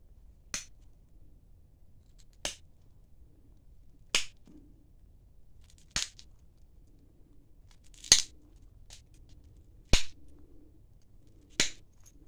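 Abo tools flake black butter obsidian while it is cupped in the hand to shape a hunting point preform. Seven sharp, clicky snaps land about every two seconds against a quiet room, with no talking.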